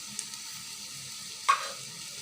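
Onions and garlic fry in plenty of oil, a faint, steady sizzle with one brief louder burst partway through as they are stirred.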